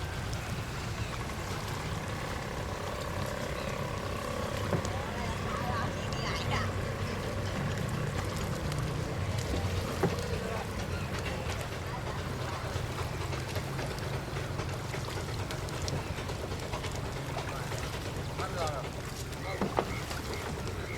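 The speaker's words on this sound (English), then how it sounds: "They're driven by an outboard motor with a long drive mechanism at the back." A long-tail boat in Burma, driven by an outboard motor with a long pole carrying the propeller, drones steadily and continuously, with water wash and a faint wind rush over the whole span.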